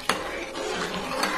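A mint biryani mixture being stirred in a pot, with a few sharp scrapes and clinks of a spoon against the metal over a soft, wet shuffling, close and fairly loud.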